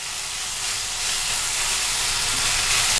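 Potatoes seasoned with black pepper fry over a medium flame for a Spanish cheese omelette, giving a dense, even, loud hiss of sizzling oil that never lets up.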